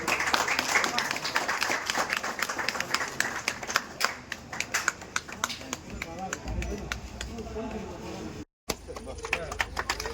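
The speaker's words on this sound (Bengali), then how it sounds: "সবাই হাততালি দেবেন" An audience claps at an inauguration and foundation-stone ceremony for a new construction with a minister present, scattered claps building into applause with talk mixed in, a brief dropout near the end.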